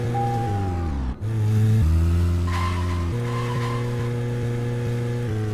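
A car in the game Deadly Premonition drives with a steady engine drone and a drawn-out tire squeal and skid, pitch shifting as it turns, loud and continuous with no talk.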